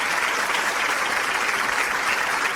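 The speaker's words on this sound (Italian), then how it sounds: "facciamo un applauso" Studio audience applause for opera students on a radio and TV show, a steady wash of many hands clapping throughout, with no voices over it.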